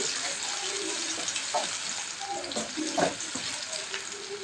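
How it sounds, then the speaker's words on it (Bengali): Chopped onions frying in cooking oil for chola bhuna, a continuous hissing sizzle with scattered pops and stirring scrapes close by. "পরিমাণ মতো রান্নার তেল দিয়েছি এবং পেঁয়াজ কুচি দিয়েছি।"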